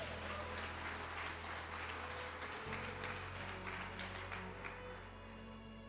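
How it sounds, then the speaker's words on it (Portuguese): A church congregation claps for Jesus during a Portuguese-language sermon, a steady wash of applause filling the room for several seconds over a low, constant hum. "Aplaude Jesus aí."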